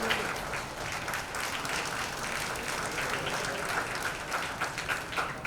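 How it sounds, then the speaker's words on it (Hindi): Applause rises from the crowd at a star-studded awards event for the veteran Bollywood dancer Jeetu ji, continuous dense clapping at moderate volume throughout. "जीतू जी के लिए एक बार जोरदार तालियां हो जाए।"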